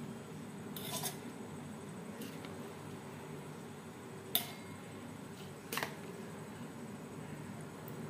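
Soaked rice going into a mixer grinder jar while making idli batter, heard as a few sparse metallic clinks and taps against a steady background hiss, faint and spread out.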